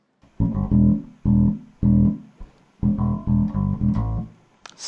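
A bass guitar plays a line of punchy repeated low notes in short clustered bursts with brief gaps, close and loud with no talking.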